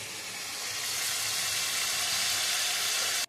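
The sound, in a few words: bata fish and masala frying in pan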